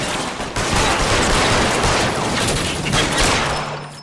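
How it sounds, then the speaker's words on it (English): Dense, continuous gunfire rattles through a shootout in the police game L.A. Noire, loud and close with overlapping shots and no pauses, fading slightly at the end. "Because he's shooting at you?"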